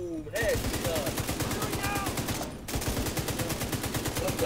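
Rapid automatic gunfire from The Division 2 rattles in dense, steady bursts throughout, loud and close, with a brief pause near the middle before the shooting resumes; voices shout over it.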